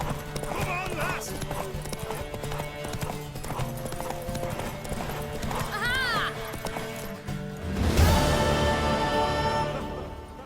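Hooves from a galloping horse in The Witcher 3 video game clop in a fast, steady rhythm. A horse whinnies and snorts, and a voice shouts encouragement over the hoofbeats.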